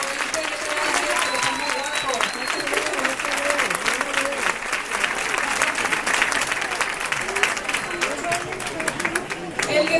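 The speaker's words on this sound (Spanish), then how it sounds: "quiero, por favor, que le demos un aplauso súper fuerte" Loud, sustained applause from an audience at a Christmas lights switch-on event outside El Corte Inglés in Jerez, a thick steady clatter of many hands with crowd chatter mixed in and a few brief tones rising through it.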